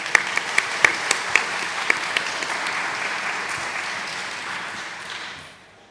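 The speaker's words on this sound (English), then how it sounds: "Please give him a round of applause." Audience at a university open house for international undergraduate programs applauds to welcome a speaker to the stage: a few sharp nearby claps ride over a dense, even crowd clapping that fades out at the end.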